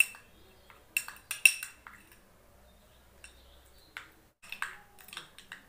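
Papaya and sandalwood powder face pack being mixed in a small bowl, with sparse, quiet clicks and taps of a spoon against the bowl separated by near silence.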